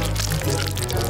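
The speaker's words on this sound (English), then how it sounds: "Now let's pour it into a glass." Hot candy syrup for a lollipop is poured into a glass, giving a brief, close liquid pouring sound with light crackling.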